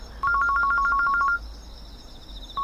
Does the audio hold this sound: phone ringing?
yes